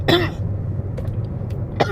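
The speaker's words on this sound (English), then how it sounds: "Just got a bad cough." A person with a bad cough gives one harsh, close cough, then a pause and a second, shorter throat-clearing cough.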